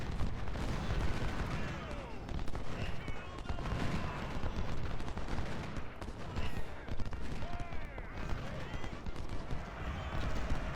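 Artillery and gunfire from a Civil War battle in the strategy game Ultimate General: Civil War: a dense, continuous barrage of booming and crackling shots over steady battlefield noise, with a voice talking over it.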